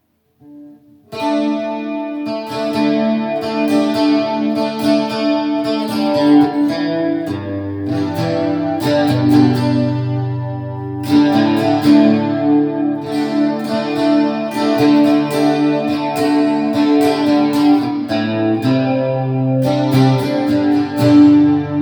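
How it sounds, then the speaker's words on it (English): Electric guitar played through a preamp with built-in chorus and reverb, sustained chords and picked notes shimmering with a swirling, wide modulation and a lingering tail, loud and steady, no voices. "So here's chorus with the reverb."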